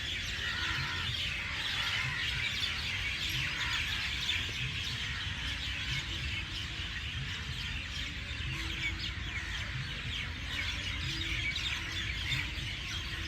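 Birds chirp and sing continuously in an outdoor setting, a dense layered chorus of tweets and calls over a constant low rumble of background noise, with no talking.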